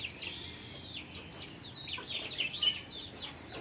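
Desi chickens cluck and call in a farmyard, a series of short, high, chattering vocalisations from several birds that grows busier toward the end. The calls are fairly distant and quiet over a soft background hiss, with no talking.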